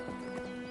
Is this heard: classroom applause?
no